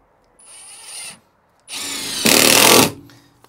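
Power drill driving screws into wood during a DIY campervan bed build, a short whirring burst followed by a longer, louder run as the screw bites and bottoms out, close and without talk.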